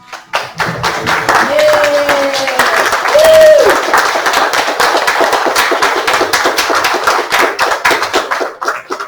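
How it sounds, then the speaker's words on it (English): Sustained applause from a Sunday service congregation fills the room, dense clapping holding steady before gradually thinning out toward the end. "stand up and give Janet a round of applause."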